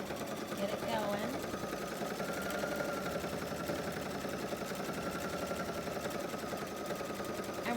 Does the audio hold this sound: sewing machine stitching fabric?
yes